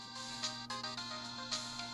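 A phone in the Ace Attorney game rings with a bright electronic ringtone, its repeating tonal pattern pulsing a few times in steady rhythm, loud and alone.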